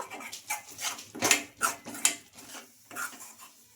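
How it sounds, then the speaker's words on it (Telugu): Rice flour is stirred into a mixture in a pan for a snack recipe, with a spoon scraping and clinking against the metal in irregular close strokes and taps. "ఇంకా ఈ బియ్యం పిండి కూడా వేసుకొని బాగా కలిపేసుకుందాం"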